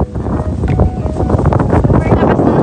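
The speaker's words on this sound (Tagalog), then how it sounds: "Super lakas ng hangin, guys." Strong wind buffeting a campsite where camping chairs have blown over, loud roaring gusts battering the microphone continuously with no pause, a voice faintly mixed in beneath.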